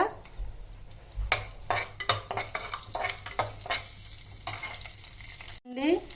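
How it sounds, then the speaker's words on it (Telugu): Bay leaves, green chillies and ground garam masala frying in a pan for tomato pulao, a soft steady sizzle broken by repeated scraping stirs and light utensil clinks against the pan. "ఇప్పుడు దీంట్లో బిర్యానీ లీవ్స్, పచ్చిమిర్చి, నేను పౌడర్ చేసుకున్న గరం మసాలా థింగ్స్ అండి ఇవన్నీ కొంచెం వేగాక"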